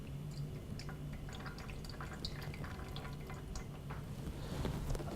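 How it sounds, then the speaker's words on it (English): Excess fat trickles and drips from a Berndes non-stick pan holding a delicate cooked twill, a soft, steady liquid pour and patter heard up close against a low hum, with no voices. "I'm going to remove the excess of fat that we have in the pan"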